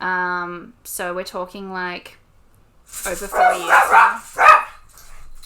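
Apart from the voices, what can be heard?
dog barking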